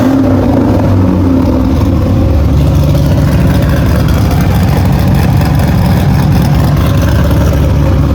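A Cadillac CTS-V drift car's engine idles loud and close through a rerouted exhaust exiting at the back, a steady low rumble with no talking over it.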